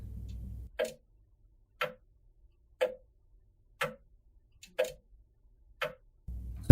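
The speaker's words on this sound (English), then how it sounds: "The grandfather clock, slow and calm" A slow, steady grandfather clock ticking in a video game soundtrack, six evenly spaced ticks about a second apart, clear and close, with a low hum at the start and end.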